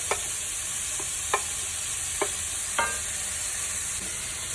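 Tomato puree and fresh tomatoes frying and stirred in a pan for Greek yemista, a constant hiss broken by a handful of sharp, evenly spaced utensil taps against the pan; no speech.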